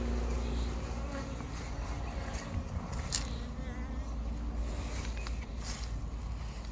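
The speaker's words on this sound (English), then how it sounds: "Yeah, they all got dark bees going in and out." Dark Carnica honeybees, a New River Carnica F1 line, buzz steadily around a mating nuc as they fly in and out, a continuous close hum with occasional louder passes near the entrance.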